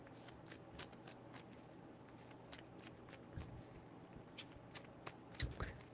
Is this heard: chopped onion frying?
no